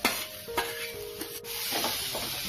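Tomatoes, green chillies and curry leaves are sautéed in a pan while a spoon stirs them. Steady close frying sizzle runs throughout, broken by a few scraping strokes, with no talking.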